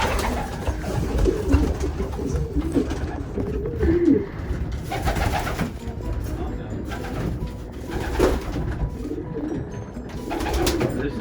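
Repeated low coos of racing pigeons close by in a loft, overlapping with rustling and faint background voices.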